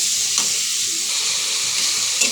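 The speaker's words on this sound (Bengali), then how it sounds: "লবণ, জিরের গুঁড়ো, মরিচের গুঁড়ো, হলুদের গুঁড়ো দিয়েছি। এখন কিছুক্ষণ ভেজে নিব।" Ground salt, cumin, chili and turmeric fry in a hot pan, giving a loud, even sizzle that runs throughout, with a couple of faint stirring clicks.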